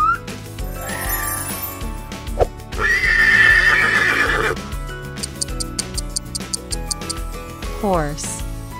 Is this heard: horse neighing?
yes